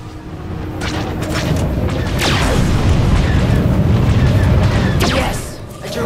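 A direct-hit explosion in a combat video game, a loud sustained booming rumble that swells and holds for several seconds before tapering, close and dominant.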